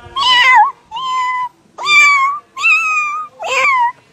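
A person imitates a cat's meow, five drawn-out, nasal mews with short gaps between them, close and clear, with no other sound.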